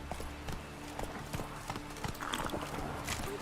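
Hooves of a horse clip-clopping at speed in The Witcher 3: Wild Hunt, a steady rapid patter of footfalls with game ambience and faint background voices.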